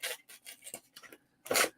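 Sandpaper rubbing dirt off an old metal connection, a series of short, dry rasping strokes in an uneven rhythm, close up, ending in one longer, louder scrub.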